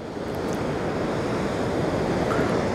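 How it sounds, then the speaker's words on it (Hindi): Ocean waves and wind at Piha beach, a sweeping surf roar with gusting wind across the microphone, continuous and fairly loud, with no voices. "बड़ा सा समंदर है"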